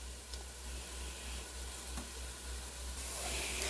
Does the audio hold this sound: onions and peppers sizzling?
yes